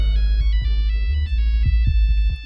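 A phone ringtone plays a bright repeating electronic melody with steady tones over a heavy low bass pulse, loud and continuous with no talk.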